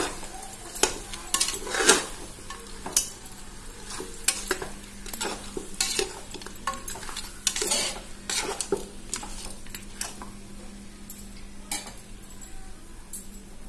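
Goat head pieces stirred with a metal spoon in a curry pot, with repeated scraping and clinking against the pot over a steady low sizzle, close and fairly loud.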